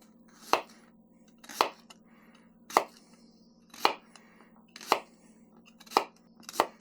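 A Knife Saga X3 Pro chops onions on a board, seven crisp, evenly spaced cuts landing about once a second, close and clear over a faint steady hum, no talking.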